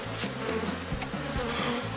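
Honey bees swarming densely around a hive, a continuous close, loud buzzing hum with no pauses.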